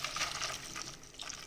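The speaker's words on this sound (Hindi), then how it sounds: "बस अब मैं इसको स्ट्रेन कर लूँगी इन जस्ट फ्यू सेकेंड्स।" Water being strained off sprouts pours and splashes continuously at close range for a short moment, loud and steady without speech.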